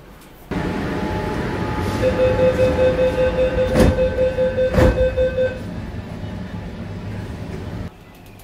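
A Kolkata metro train pulls out of Sealdah station with a sudden onset of rolling rumble, rhythmic wheel beats and a steady electric whine, then the noise eases toward the end.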